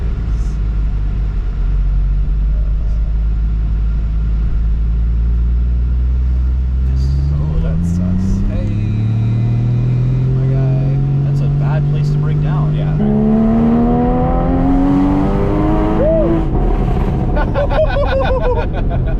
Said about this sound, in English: if you're in second gear and you're really revving it out and you let off